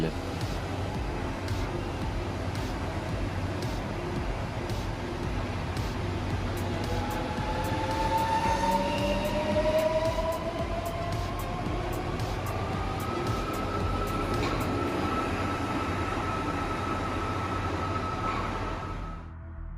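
A new MPL16 automated metro train runs on line B in Lyon, France. There is a continuous rumbling roll with rising and falling electric motor whine, heard steadily throughout with a voice talking over it.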